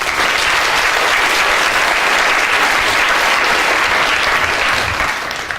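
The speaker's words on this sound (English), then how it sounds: "Round of applause." An audience claps loudly and continuously after a live stage demonstration, a full even wash of applause with no speech over it.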